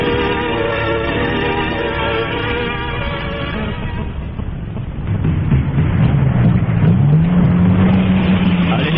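Three company trucks on a road, as a radio drama effect: a steady, loud engine drone with harmonic hum, then heavier rumbling and a rising gear whine as the vehicles push on, no voices.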